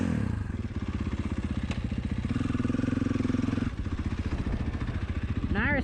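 A motorcycle rides a homemade dirt track, its engine loud and close with a steady pulsing rhythm and revs rising and falling, heard from the rider's position.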